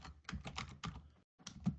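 Keys on a computer keyboard are tapped out in a quick run of close, soft clicks as a Linux command is typed, with one short pause near the end.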